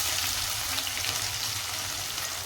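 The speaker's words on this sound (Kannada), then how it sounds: "ಈಗ ಈರುಳ್ಳಿ ಸ್ವಲ್ಪ ಚೆನ್ನಾಗಿ ಬೇಯಲಿ." Sliced onions fry in a pan for potato kurma, giving a steady, even sizzle up close that holds at a constant level with no talking.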